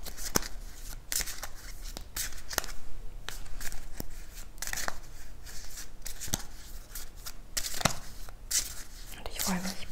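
A stack of cards being shuffled by hand during a quiet ASMR session, crisp repeated riffles and slaps arriving in quick irregular bursts, close and clear, with soft whispered talk between them.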